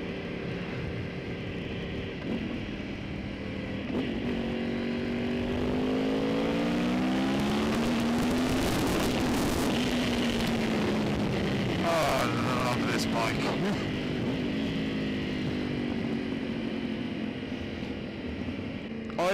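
A 2012 Yamaha R1 motorcycle with a cross-plane engine accelerates through several gears, its pitch climbing and dropping with each shift amid wind rush on the road, while a rider talks intermittently.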